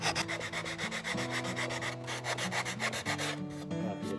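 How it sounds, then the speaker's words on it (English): Sandpaper on a hard block worked by hand over a leather boot jack, a continuous close scratchy rubbing in quick back-and-forth strokes with no talk. "I got sandpaper on a hard block."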